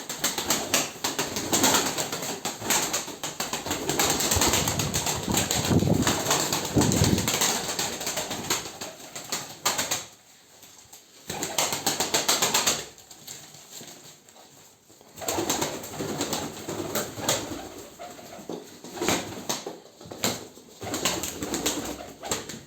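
Pigeons coo steadily under bursts of fluttering, flapping wings, with a dense, noisy flock sound that briefly dips quieter twice.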